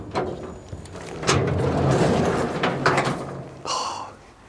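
A white garage door rolls and rattles open over a few seconds, with clunks at the start and end and a short high squeak near the finish.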